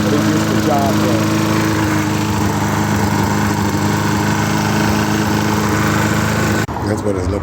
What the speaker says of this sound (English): Yeah, I'm cutting that grass all the way down, man.